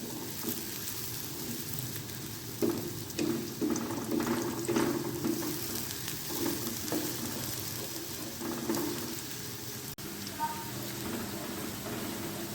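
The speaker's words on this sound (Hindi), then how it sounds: "फ्लेम आपने मीडियम से थोड़ा सा हाई रखना है ताकि प्याज हमारे जल्दी से ब्राउन हो जाए" Onions frying in a pan over a medium-high flame, a steady low sizzle with occasional stirring clatter and scraping, heard close and fairly quiet throughout.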